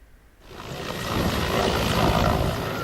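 A rescue helicopter flies over flood-hit Anantapur district in Andhra Pradesh during heavy rain, its broad roaring engine and rotor noise swelling up quickly and holding loud and steady.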